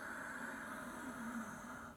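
Steady Ujjayi yoga breath drawn in through the back of the throat with the mouth shut, a soft, raspy, whistling hiss that holds evenly, faint and close, with no talking.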